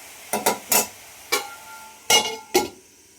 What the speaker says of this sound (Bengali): একটু ঢাকা চাপা দিয়ে দিই